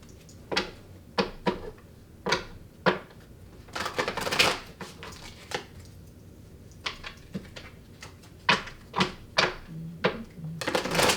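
Tarot cards are shuffled in quick riffling bursts, repeated several times with short pauses between, close by and fairly crisp.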